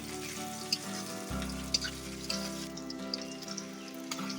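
Onions fry in a pan over a wood-fired stove in a village kitchen, giving a soft continuous sizzle with a few scattered sharp crackles and pops, close and low in level, with no speech.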